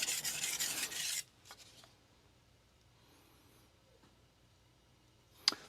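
Carbon steel Shirogami santoku knife, 165 mm, being thinned on a Shapton Rockstar 320 grit whetstone: a short loud rasping stroke at first, then quiet faint scraping and a sharp scrape at the end.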